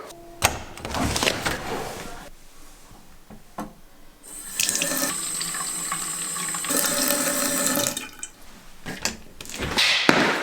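Running tap water in a bathroom fills a container in bursts, a steady rushing stream with pauses and clunks between, close by and fairly loud.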